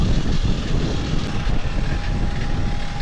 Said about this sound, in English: jet engine today, no propeller. They sound a bit rattly for my liking though.